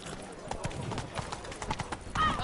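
Hooves of Roach, a horse in The Witcher 3, clip-clop steadily at a trotting pace, close and moderately loud, with faint background voices and a louder burst near the end.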